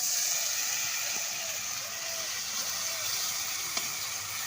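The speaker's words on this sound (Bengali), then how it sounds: "সামান্য একটু জল দিয়ে দিলাম।" Water hits sizzling masala with dried chilli powder in a pan while a shol fish curry cooks. A loud, steady hiss runs throughout, close by, with no talk.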